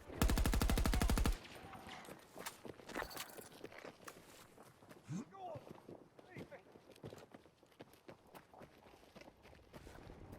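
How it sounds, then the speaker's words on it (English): Rapid mechanical gunfire bursts loudly at the start, followed by scattered shots, thuds and footstep-like steps under busy game noise. "The sound of gunfire and explosions and footsteps"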